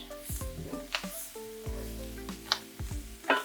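Cracked black pepper stirred into Brussels sprouts in a pan over medium-low heat, with scattered clinks and scrapes of a utensil over a quiet sizzle, close by.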